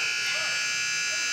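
Sustained electronic buzzer at a boys' varsity high school basketball game, Indian Hill vs Finneytown, marking the end of the first quarter; a steady, loud tone holds for the whole moment with faint gym noise beneath.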